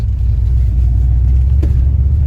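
A 1982 Porsche 928 engine in first gear at low RPM, a loud, close, steady low rumble with a slightly uneven, stumbling note, heard alone.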